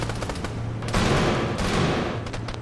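Heavy gunfire from a war video game during a counter-insurgency wargame: dense cannon blasts and rapid machine-gun bursts pound continuously, loud and close, with a louder sustained barrage in the middle.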